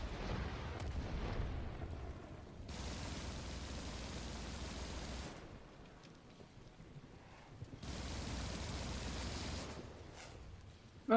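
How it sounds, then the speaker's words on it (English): Mortar shells explode in the video game Warframe as long, heavy rumbling blasts. They come in two loud waves, separated by a quieter stretch. "Mortars incoming."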